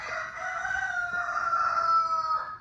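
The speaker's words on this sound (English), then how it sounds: "Oh, there's a chicken." A rooster crows in one long drawn-out call, clear and fairly close, with faint background noise and no talking.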